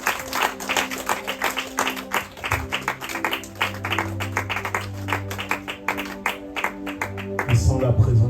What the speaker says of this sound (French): Est-ce qu'on peut applaudir le Seigneur, s'il vous plaît?